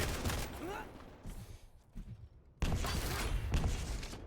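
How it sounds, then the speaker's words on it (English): Machine gun fire in the arena shooter Quake CPMA during a tournament match, dense rapid bursts broken by a brief quieter gap, loud and close with other game effects mixed in. "someone that's using more a machine gun straight off the bat"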